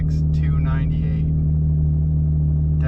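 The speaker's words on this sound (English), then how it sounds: "Definitely has an exhaust. This thing is loud as shit, which is okay because it's a drift car." A drift car's loud aftermarket exhaust drones with a deep, steady engine rumble, with brief bursts of talk over the top at the start before the exhaust note carries on alone.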